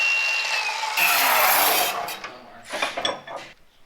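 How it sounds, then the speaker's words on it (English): A power tool cuts around a weld on a vehicle driveline yoke in a shop, with a loud, steady, high-pitched grinding whine for about two seconds that then breaks into shorter, uneven bursts of cutting and rubbing. "We're just gonna cut around this weld, and then we'll be able to see what's inside of it."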